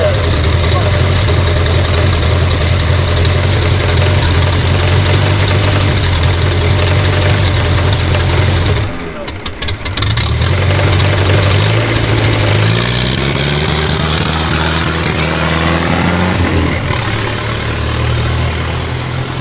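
A car engine at a hill climb festival pulls hard in high gear as the car heads uphill, a steady loud mid-low drone that briefly dips, then rises in pitch as it accelerates away, with voices mixed in.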